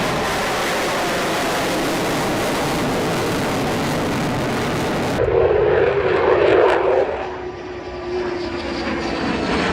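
A USAF F-15 fighter jet's powerful engines roar in a loud, steady broadband rush, shifting partway through into a deeper, brighter surge with a faint whine before settling back to a continuous drone.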